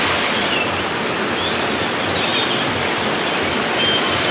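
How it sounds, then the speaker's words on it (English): A waterfall in a garden area pours continuously, a dense broadband hiss of falling water, steady and fairly close with no voices. "There's lots lots of beautiful waterfalls here"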